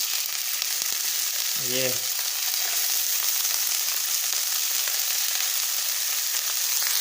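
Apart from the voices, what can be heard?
fish frying in a pan for fish curry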